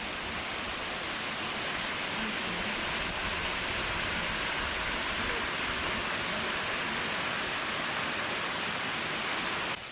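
Steady, broadband rush of a mountain stream running over rocks in autumn, constant and fairly close throughout, with no voices.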